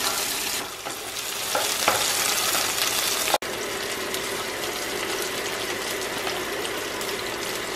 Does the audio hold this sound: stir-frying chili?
yes